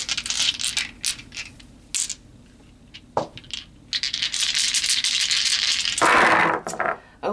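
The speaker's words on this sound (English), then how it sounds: "So let's pull some more dice." Dice rattle and clatter together as they are shaken and pulled from a container, in several short bursts of hard clicking with brief pauses between, close and fairly loud.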